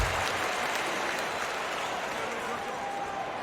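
Crowd applause in the NBA 2K21 basketball game after a successful free throw, a steady, dense wash of clapping that holds evenly from start to finish with no talk over it.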